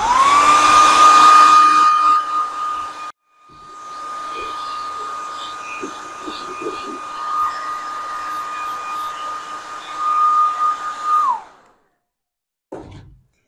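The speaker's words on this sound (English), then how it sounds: "dry it with a hairdryer just to show you what it does look like when it dries" Handheld hairdryer blowing steadily on a photo transfer to dry it, a loud continuous whirring whoosh with a sustained high whine, briefly cut off around three seconds, then running again before switching off.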